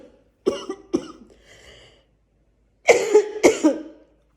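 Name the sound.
repeated coughing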